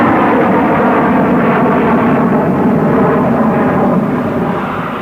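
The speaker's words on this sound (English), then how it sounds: "A perfect formation of scimitars executing the twinkle roll." Supermarine Scimitar jets flying in formation at a Farnborough air show around 1959–1961, a loud, continuous roaring jet rush that holds steady and fades slightly at the end.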